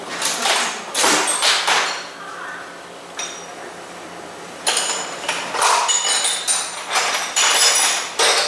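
Metal clanks and sharp knocks ring out from a hammer striking a Honda Talon's steel roll cage, coming in irregular bursts of a few hits with short pauses between them.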